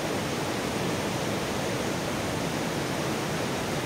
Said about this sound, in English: Look at the water coming down. There's few springs around. This water coming out of the ground right in the bushes over here.